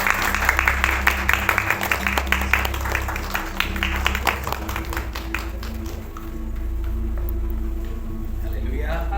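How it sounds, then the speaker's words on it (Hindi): A church fellowship audience clapping to welcome a pastor, dense rapid hand claps filling the first half, then thinning out as a steady hum and voices take over. "सभी हम लोग ताली बजाकर साहब को स्वागत करते हैं"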